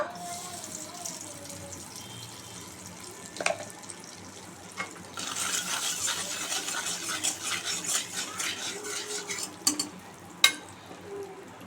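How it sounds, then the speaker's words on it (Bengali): Salt and turmeric land in hot oil in a wok while shrimp are about to be fried, giving a close, steady sizzle that swells midway, with a few sharp utensil clinks scattered through. "এখানে কড়াইতে তেল গরম হয়ে গেছে, তেলে আমি নুন হলুদ দেব।"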